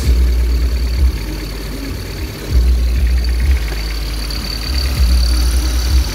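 A car engine runs after a fuel pressure regulator install on a Toyota 4E-FTE/4E-FE build, a loud, close, rumbling idle that swells into a few brief revs and settles again.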